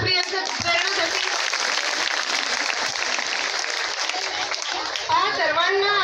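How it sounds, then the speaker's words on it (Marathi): A school audience applauds after a student's song, dense loud clapping filling the hall with children's voices and chatter mixed in, swelling again near the end. "एकदा जोरदार टाळ्या प्रियंका प्रेरणासाठी"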